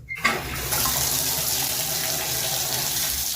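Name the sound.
water running from new Gerber tub valve and spout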